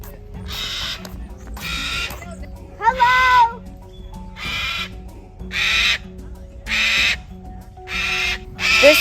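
A sulphur-crested cockatoo in Las Vegas lets out a series of harsh, loud screeches in regular bursts, close by, with a few squawkier calls mixed in.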